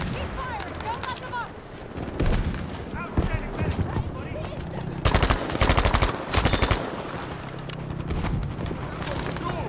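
Battlefield 5 Breakthrough gunfire on the Al Sundan map: scattered shots under shouted voices, then loud bursts of rapid automatic fire in the middle before the firing thins out again.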